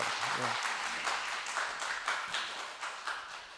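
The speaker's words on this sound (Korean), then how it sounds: "큰 박수로 우리 맞이하시기" Scattered applause rises in the background as a lecturer is welcomed, a voice speaking over it, the clapping continuing steadily throughout.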